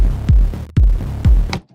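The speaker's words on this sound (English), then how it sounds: "draw in some wave shapes here, you know, like put in some points and get crazy distortion" A heavily distorted bass from an FL Studio native plugin, with the distortion shaped by drawn wave points, plays three loud, punchy notes whose pitch drops sharply, then cuts off abruptly.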